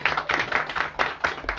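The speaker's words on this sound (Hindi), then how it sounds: "तो इनको और बहन जी को हम तालियों से धन्यवाद देते" A gathering at a Krishna Janmashtami katha clapping in thanks, quick irregular handclaps from a small audience, close and fairly loud, over in a moment.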